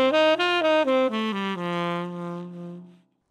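A dominant pentatonic scale played from the fourth degree over a minor chord: six stepped notes in a row, the last one ringing out and fading, heard alone and clearly.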